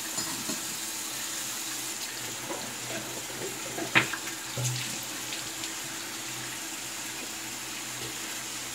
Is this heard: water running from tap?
yes